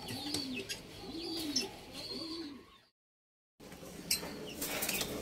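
A pigeon coos in soft repeated rounds, rising and falling at close range, then a brief gap of silence before faint chirps and outdoor noise resume.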